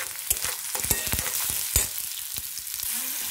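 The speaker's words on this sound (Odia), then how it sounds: "ପିଆଜକେ ଲାଲ କରିକି ଭାଜି ଦେମା" Onions frying in a pan for a cabbage and potato curry, a loud, continuous sizzle close up with a few sharp stirring knocks and no speech.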